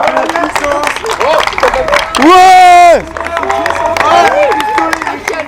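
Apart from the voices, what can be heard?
audience applauding Megan for winning the event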